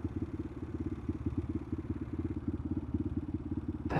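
A Honda Grom small motorcycle being ridden, its single-cylinder engine putting out a steady pulsing thrum close up for several seconds, with a sharp burst of wind noise at the very end.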